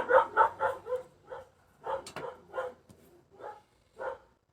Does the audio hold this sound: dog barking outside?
yes